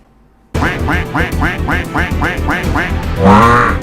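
A duck quacks in an internet advert, nine quick evenly spaced quacks close and loud over a dense background bed that swells toward the end, with no talking.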